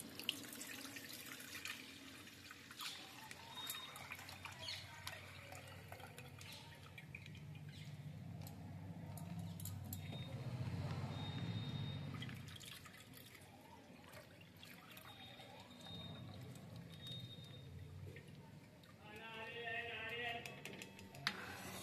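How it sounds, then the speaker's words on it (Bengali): Milk is poured through a strainer into a pot, giving a faint, steady trickle that swells in the middle. A voice talks at times. "এবার দুধটাকে আমি ছেঁকে নিচ্ছি।"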